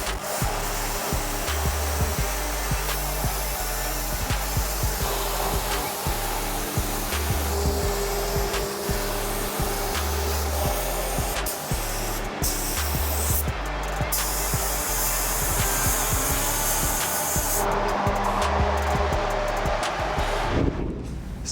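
A paint spray gun with a 2.5 millimetre tip sprays primer onto a K-10 square-body truck panel, giving a loud, continuous airy hiss with a steady compressor drone throughout.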